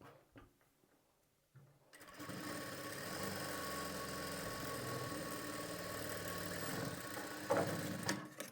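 A sewing machine stitches layered blouse fabric in a steady, continuous run at close range. It starts after a few quiet seconds with a soft bump and keeps an even whir to the end, with no voices.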